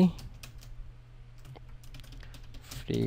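Computer keyboard typing while a graphic design tutorial text is entered, soft close clicks of keys at an irregular pace with a louder burst at the end, under a quiet room hum.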